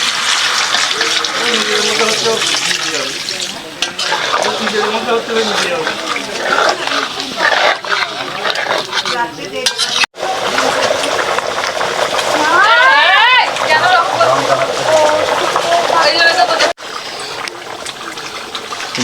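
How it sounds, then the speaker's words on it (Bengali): Water is poured into a pot of country chicken curry to make the gravy, a splashing, trickling pour heard under ongoing conversation. "এবার ঝোলের জন্য জলটা দিয়ে দেওয়া হচ্ছে।"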